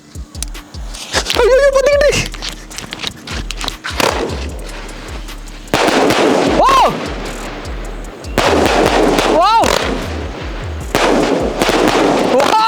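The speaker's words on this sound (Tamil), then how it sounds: "சும்மா மாசா அப்படியே போய் டிப் டிப் டிப் டிப் டிப்னு வெடிச்சுக்கிட்டே இருக்கும்" Multi-shot sky shot fireworks fire off in rapid succession, loud sharp bangs and crackling bursts mixed with rising whistles, continuing throughout with short pauses between volleys.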